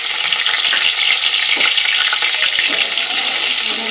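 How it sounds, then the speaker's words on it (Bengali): Green chillies frying in hot oil in a home kitchen, a loud steady sizzle with crackling spatter running continuously and close, no voices. "এই তেলের মধ্যে দিয়ে দেবো কাঁচা লঙ্কা"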